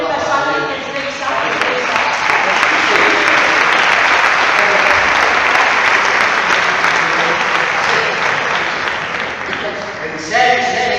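An audience at a Fallas literary awards ceremony breaks into loud, sustained applause that fills the hall for several seconds, with a voice speaking over the clapping at the start and end.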